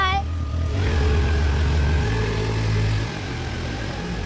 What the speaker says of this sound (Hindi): तो ये बस बाइक स्कूटी पे बैठ के तैयार है जाने के लिए